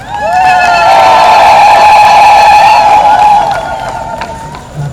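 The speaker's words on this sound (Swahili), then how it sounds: "Makofi mengi na vigelegele." At a church building site blessing, a crowd ululates in loud, sustained, high trilling voices close by, fading after a few seconds.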